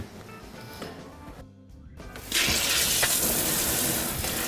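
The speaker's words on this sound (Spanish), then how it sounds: "Vamos a lavarlos un poquito en agua." Leeks being rinsed under a running kitchen tap, water gushing steadily into the sink, growing louder and fuller midway after a brief lull.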